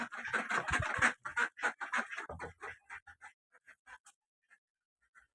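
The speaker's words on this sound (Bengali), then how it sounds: "আগে আমার হাঁসগুলো ছাড়িয়ে দিলাইছি" Ducks in an Assam village quack in a rapid burst of harsh, nasal calls that grow sparse and fade to a few scattered quacks.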